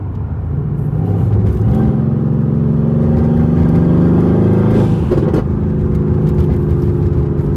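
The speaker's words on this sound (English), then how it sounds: "put it in comfort mode, and it completely transforms the entire exhaust note" A Mercedes-AMG GT R in comfort mode drones steadily from inside the closed cabin, a loud, smooth mid-range engine rumble with a slight rise in revs partway through and no talking.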